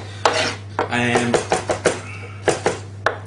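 A knife rough-chops tomatoes for a concasse on a board, with sharp, fairly loud chops coming in an uneven rhythm of about a dozen strokes, close up, over a low steady hum and brief voices.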